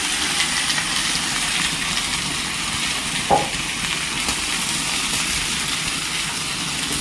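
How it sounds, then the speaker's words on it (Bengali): Mixed vegetables frying in hot oil with onion in a kadai give a dense, steady hiss and sizzle close up, with one brief stirring clunk midway. "এই তো এখন সবজি দিয়ে দিলাম কড়াইতে।"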